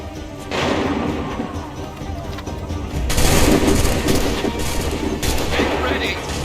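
Gunfire sounds in bursts on command, with loud overlapping shots and rattling volleys. A second, heavier barrage follows midway, and sporadic cracks continue over a noisy background.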